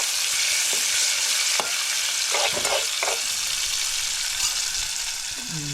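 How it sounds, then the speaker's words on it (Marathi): Garlic, ginger, curry leaves and chili sizzle loudly in hot oil, a steady close frying hiss with a few stirring scrapes of the pan. "हे सर्व लसूण, अद्रक, कढीपत्ता, मिरची वगैरे आता तेलामध्ये टाकलं आहे."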